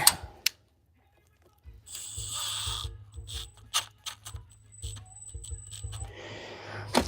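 A ratchet tightens a part back up in a shop, with quick bursts of clicking in short irregular runs, close and fairly loud, separated by brief quiet gaps and a faint hum.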